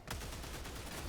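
A rapid-fire burst from a weapon in the sci-fi shooter Helldivers 2, a dense, steady stream of close, sharp shots with no pause for just over a second.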